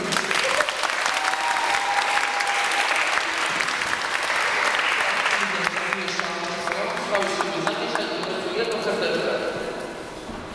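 Audience applauding the judges at a post-festival religious song event, sustained dense clapping from a large crowd throughout, with tonal sounds from a stage rising midway.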